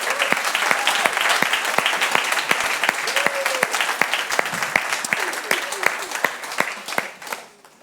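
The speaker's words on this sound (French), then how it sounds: "je pense qu'on peut donner une main d'acclamation à notre Seigneur" An audience at a Christian Christmas show in a church applauds together, with sustained, dense clapping filling the hall for several seconds before fading out, and a few voices cheering faintly within it.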